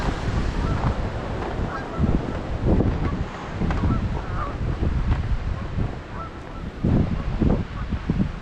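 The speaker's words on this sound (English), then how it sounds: "I can hear all the geese." Geese honking repeatedly through a snowstorm, their calls rising out of steady wind buffeting the microphone and a broad roar like surf, several honks standing out near and moderately loud.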